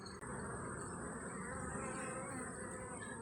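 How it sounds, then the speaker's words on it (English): Honeybees foraging goldenrod buzz around a hive, a dense continuous drone of many wings, steady and fairly close, with no voices. "We have definitely got some busy bees right here."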